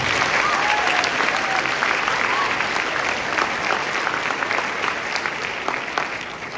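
Audience at an all-district elementary school concert applauding in a dense, steady roar of many hands that holds at full strength throughout, thinning only slightly at the very end.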